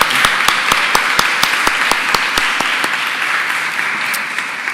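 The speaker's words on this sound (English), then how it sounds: "I suggest that we give the speakers a big applause for this." Conference attendees applaud the speakers after a session on gender in procurement: sustained room applause with one nearby pair of hands giving sharp, evenly spaced claps that fade out toward the end.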